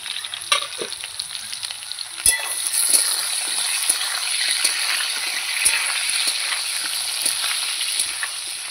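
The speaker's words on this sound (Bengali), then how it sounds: "এবার এটাকে লাল লাল করে ভাজবো।" Rohu fish with elephant foot yam sizzles steadily in hot oil in a pan, browning to a reddish colour, with occasional clinks and scrapes of stirring and no talk.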